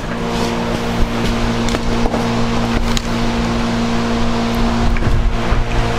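A boat engine runs with a steady, loud low drone and hum, close by, with faint wind and water noise and a few small knocks, no voices.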